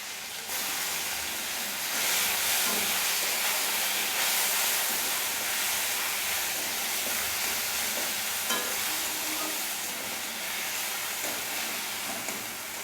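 Blended paste goes into a hot pan for a prawn dopiaza, producing a broad, even hiss of frying that holds steady throughout with only faint stirring knocks.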